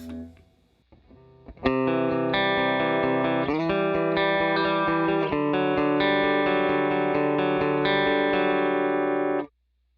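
Electric guitar through an HX Stomp's AC30 amp and cab model, dry with no added effects: a clear strummed chord sequence of sustained, slightly driven chords, steady and loud for about eight seconds, then an abrupt stop.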